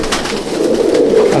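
Imported racer pigeons in a loft at Madhyamgram give a steady low cooing, a close, dense murmur of several birds with no talk over it.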